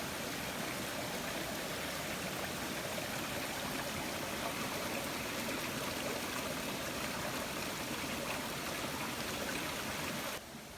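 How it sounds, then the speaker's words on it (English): A small stream flows and babbles steadily throughout, a constant close wash of water with no voices, along a trail at Dixon Springs State Park, Illinois. "A little bit of water, she's making a lot of noise."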